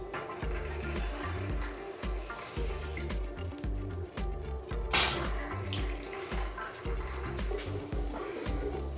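Water runs from a newly installed bathroom tap in a home bathroom renovation, flowing steadily for several seconds with a pulsing, sputtering rhythm, close and moderately loud, with no voices.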